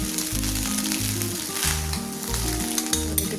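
Fried prawns tossed into rice in a hot pan give a steady, close sizzle and crackle throughout, partly masked by loud background music with a rhythmic low beat.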